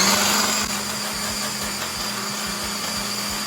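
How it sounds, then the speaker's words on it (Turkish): Electric mixer whisking thick, cooled pastry cream for a Turkish puff-pastry dessert, a steady loud motor whir with a rhythmic low churning pulse, close and continuous with no talking. "İlk olarak bunu güzelce çırpıyorum."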